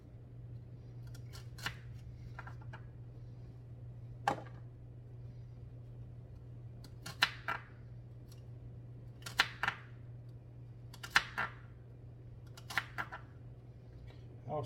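A knife slices vegetables thin on a board for chicken pot pie, giving sharp, separate cutting strokes in irregular clusters over a steady low hum, with no talking.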